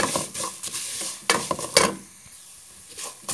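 Noodles fry in local yellow butter, with a sizzle broken by sharp bursts of stirring and utensil clatter against the pan, quieter in the second half.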